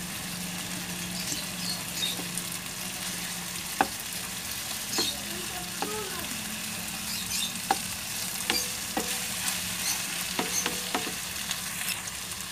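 Chicken hamonado with onion and garlic sizzling in a pan after being flipped, a steady close fry broken by scattered sharp pops and light clicks.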